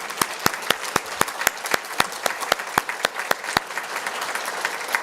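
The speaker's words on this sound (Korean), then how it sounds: "우리 환영을 크게 하도록 하겠습니다. 박수하겠습니다." A standing church congregation at a Thanksgiving Sunday service claps in welcome, sharp individual claps spaced out at first, then thickening into steady, fairly close applause filling the room.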